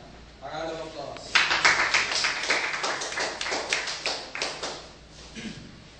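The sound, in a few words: applause for award recipient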